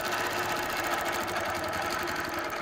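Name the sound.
sewing machine quilting with a template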